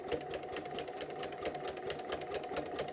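A sewing machine runs steadily while stitching a quilted placemat, its needle ticking in a fast even rhythm over a constant motor hum, close and moderately loud with no talk.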